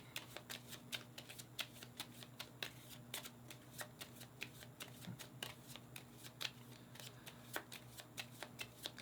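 A deck of board game cards being shuffled, quick repeated riffling clicks in an irregular rhythm, faint and close.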